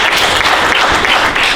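Dense, loud clapping from a conference audience at a professional residency presentation, a continuous wash of hands for over a second with no gaps.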